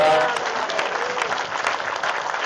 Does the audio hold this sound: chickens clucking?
no